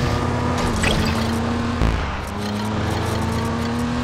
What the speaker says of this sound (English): Reckless driving.